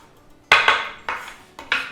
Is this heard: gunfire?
no